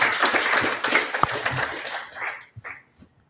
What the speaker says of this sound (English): So round of applause, everyone.